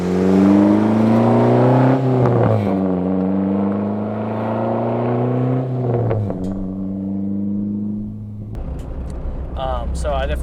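A four-cylinder Acura Integra with a loud aftermarket exhaust and no muffler revs up and down in deep harmonic surges, with crackling pops between rises and a voice talking over the engine near the end.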